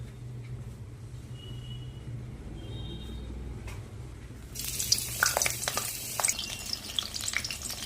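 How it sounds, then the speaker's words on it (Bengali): Pointed gourd (potol) pieces going into hot oil in a wok, bursting into loud close sizzling and crackling midway after a quieter stretch of low hum, then sputtering steadily to the end. "অল্প অল্প করে পটলগুলো প্রথমে ভেজে উঠাবো।"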